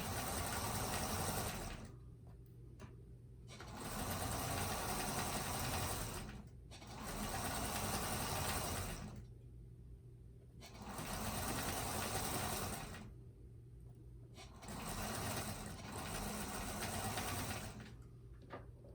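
A Pfaff sewing machine stitches a table runner in steady whirring runs of rapid mechanical clatter, stopping and restarting several times with short pauses between bursts, close and clear with no talking.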